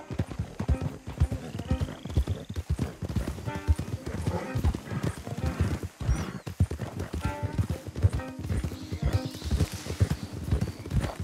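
Horses' hooves clop steadily along a trail in the Red Dead Redemption 2 video game, a dense rhythmic patter with a brief whinny, heard under quiet game ambience and some talk.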